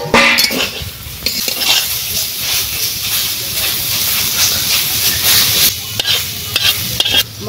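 Leafy greens fry in a pan being stirred and flipped, with loud, constant sizzling and hissing, and scraping and clatter from the utensil against the pan, close up, with voices speaking now and then.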